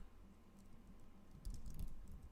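Close, quiet computer keyboard typing of Python code, a patter of light key taps that turns denser and slightly louder in the second half.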